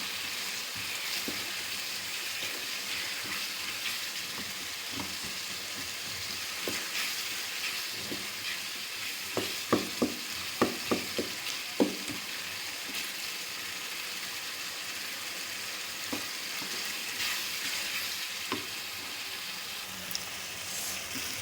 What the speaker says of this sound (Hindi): अब ये अपना ऑयल छोड़ना शुरू हो गया, तो हम इसमें कटे हुए आलू डालेंगे। तो हम इसको करेंगे मिक्स।